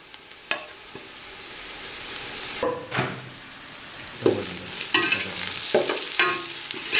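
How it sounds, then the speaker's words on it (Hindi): Onions with salt, chili and kasuri methi sautéing in a pan over low heat for chicken sajji, a steady sizzle broken by several louder scraping stirs of the spoon, no voices. "और अब हम इसको हल्का सा भून लेंगे,"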